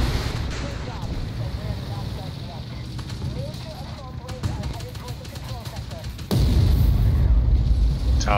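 Tank cannon fire from a T-80 in the video game Armored Warfare, a heavy engine rumble with a loud booming blast near the end, while someone talks over it.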